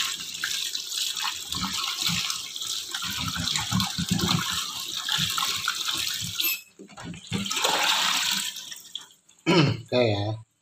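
Tap water runs and splashes as a yellow pumpkin is washed in a sink for honey pumpkin pudding, a continuous gushing that breaks off briefly and resumes, with a voice speaking near the end.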